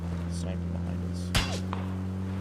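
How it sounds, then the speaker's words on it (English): A single sharp sniper rifle crack in PUBG, one distant-sounding shot over a steady background hum, with faint voices around it. "Sniping behind us."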